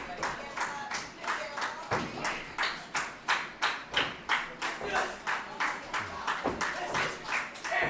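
A wrestling crowd at a live SOM Meltdown 2019 show claps in a steady, rallying rhythm for Crash O'Connell, with sharp rhythmic hand claps repeating loudly throughout over a bed of general crowd noise.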